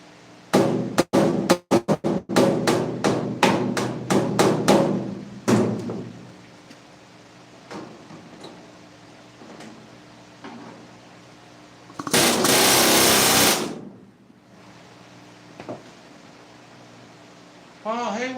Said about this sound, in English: Just putting rivets in.